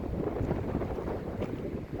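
Steady wind buffets the microphone on a narrow hillside trail along Denali's Rock Creek, making a low, rumbling, gusty roar with no voices.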